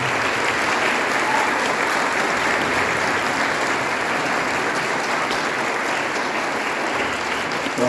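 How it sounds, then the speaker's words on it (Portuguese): A church congregation applauds confirmation candidates during a Confirmation Mass, sustained, dense clapping from many people that fills the room evenly for several seconds. "Uma salva de palmas para os nossos crismandos."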